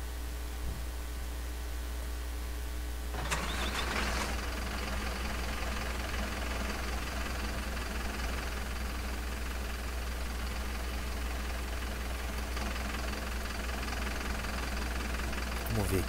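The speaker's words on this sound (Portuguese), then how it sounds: "eu vou dando partida no ônibus, vai aquecendo o motor" A Marcopolo Viaggio G7 Volksbus coach engine in the OMSI 2 bus simulator cranks and catches, then settles into a steady, droning idle that holds for the rest of the clip.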